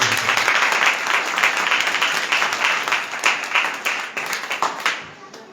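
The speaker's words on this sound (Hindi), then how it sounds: "ताली बजा दीजिए प्रभु" A church congregation applauds with full, dense clapping that gradually thins into fewer, more separate claps before stopping.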